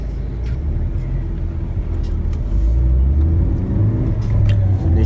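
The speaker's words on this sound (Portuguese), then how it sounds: "Não vai não, a moto chegando." Motorcycle arriving outside, a loud low engine rumble that grows and rises in pitch toward the end, with traffic-like noise throughout.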